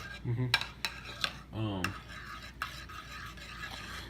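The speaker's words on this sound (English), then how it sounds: "So, you just stir that in there." A utensil stirs heavy cream into a pot of vichyssoise soup, giving several quick clinks and scrapes against the pot, close and fairly quiet, with a brief rubbing swirl in the middle.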